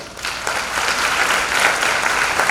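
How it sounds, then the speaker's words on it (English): Applause for graduating students at a college convocation in Jalandhar, a loud, dense wash of many hands clapping in a hall, continuous and even from start to finish. "A big round of applause to all of you."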